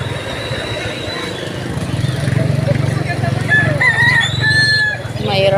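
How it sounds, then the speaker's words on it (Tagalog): Roosters crow in drawn-out calls among clucking chickens outdoors, with a low engine rumble underneath and a steady background of farmyard noise. "Maraming manok."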